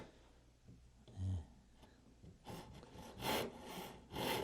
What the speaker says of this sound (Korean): 자, 마저 톱질을 다 완성을 해 볼게요